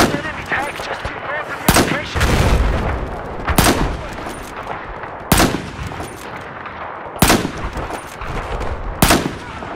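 Gunfire at an enemy machine gunner in the video game Battlefield 4, loud close rifle shots in short bursts repeating every couple of seconds over a rumbling battle background.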